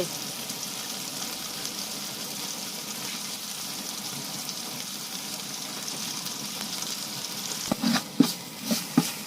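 Spicy bamboo shoot curry stir-fries in oil in a steady, soft sizzle, and a few sharp spatula clacks against the pan come near the end.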